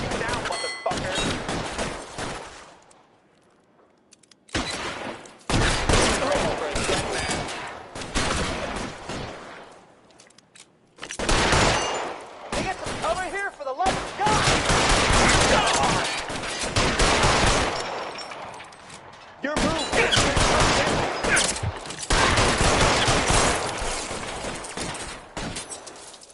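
Gunfire in the crime video game L.A. Noire: loud, rapid bursts of shots and volleys come in several dense clusters separated by brief pauses, with shouting voices mixed in.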